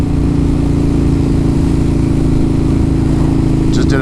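A 2007 Kawasaki Vulcan Mean Streak motorcycle engine running steadily at idle on a cold day, a loud, close, even low rumble with no change in pitch, and a faint brief ticking near the end.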